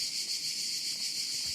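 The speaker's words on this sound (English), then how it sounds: "There were cicadas." Cicadas drone outdoors on a summer sound walk: a continuous, shimmering, high insect buzz that stays even and fairly faint throughout, with no speech.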